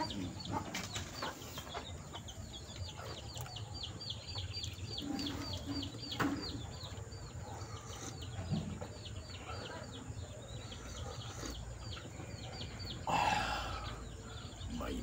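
Chickens cluck and chatter softly at a distance on a farm in La Union, with birds and a faint hum of outdoor background around them.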